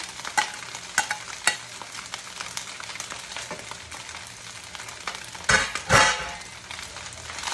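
Rice with vegetables and chicken is stirred in a frying pan, the spatula scraping and knocking in quick, uneven strokes over a gentle sizzle, with a couple of louder scrapes near the end.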